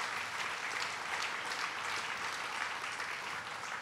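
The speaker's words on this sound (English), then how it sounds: "Let's give him a round of applause." Audience applause at a business event in Liverpool, a steady, dense wash of clapping that holds at an even level throughout with no voices on top.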